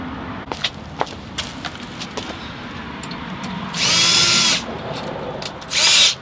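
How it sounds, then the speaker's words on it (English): A power tool deburring a part on a workbench gives two sustained, loud high-pitched grinding bursts, each lasting about a second, separated by quieter workshop clatter and taps. "A little deburring."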